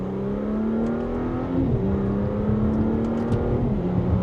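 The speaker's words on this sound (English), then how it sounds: "So with the manual setting, we can drop down to second gear, where you get some pops in that exhaust, which is nice." A 2026 Audi SQ5 in manual mode pulls a mild acceleration in second gear, its engine note climbing steadily and shifting pitch mid-pull, with faint crackles from the exhaust near the end.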